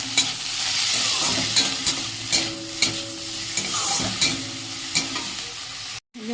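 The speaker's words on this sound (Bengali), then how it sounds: "যে মশলাটা কষছি, একটু ভালো করে কষছি, তেলটা ছেড়ে যাক" Spices are sautéed in oil for a mutton curry, with a continuous sizzle and a spoon scraping the pan in repeated stirring strokes, close and loud, ending with a brief cutoff.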